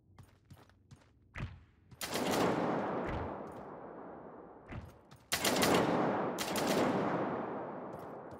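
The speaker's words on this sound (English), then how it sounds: "Sounds like they're shooting each other." Gunfire between players in the Realm Royale video game: scattered single shots, then two long sustained bursts of rapid automatic fire at moderate loudness, with no talking over them.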